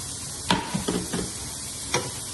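Crispy tofu goes into a pan of sautéed vegetables over a lowered flame, bringing a few soft clatters and scrapes over a steady background sizzle.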